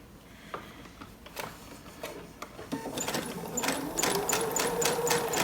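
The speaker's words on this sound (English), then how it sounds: "I'm going to try to keep a very straight stitch going" A sewing machine stitches an elastic waistband with a lengthened straight stitch, starting with scattered clicks and building into a steady, close mechanical whir with rhythmic ticking that grows louder toward the end.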